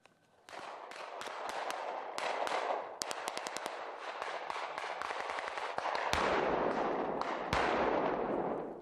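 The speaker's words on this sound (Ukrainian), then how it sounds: "Казкову зимову тишу лісу розривають вибухи та постріли." Rapid bursts of gunfire and sharp blasts from Ukrainian military forest-warfare training crack in quick succession, loud and echoing through open winter woods, with a heavier explosion-like rumble late on.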